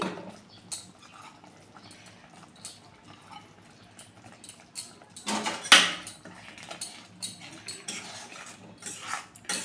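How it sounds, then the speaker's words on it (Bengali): Prawns go into a pan of prawn malai curry with coconut milk, bringing clinks and scrapes of a utensil against metal and soft pattering, close up with no voices. "এবার আমি চিংড়ি মাছগুলো দিয়ে দিচ্ছি"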